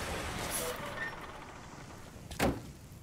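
Military truck in Metal Gear Solid V: The Phantom Pain, a steady low engine rumble running throughout with a brief louder burst near the end, like a door or air brake release.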